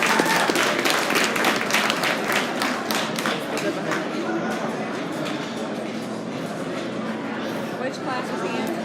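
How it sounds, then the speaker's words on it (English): An audience at a livestock swine show gives a round of applause, clapping crisply at first then fading into a murmur of crowd noise with voices in the background. "Give him a nice round of applause."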